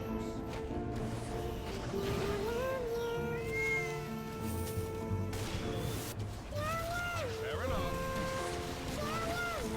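Several cats in the video game Ragnarok meow and yowl in drawn-out, wavering cries over a busy background of other game sounds and noise.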